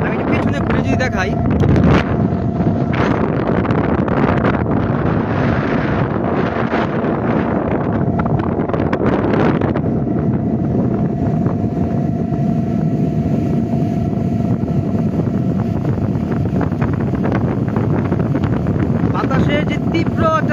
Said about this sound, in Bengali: বাতাসের যে তীব্র একটা ঝাপটানি এখান থেকে পাচ্ছি